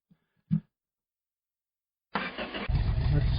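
A car engine cranks and catches at about two seconds, then settles into a loud, steady idle up close, with a couple of brief knocks and quiet moments before it fires.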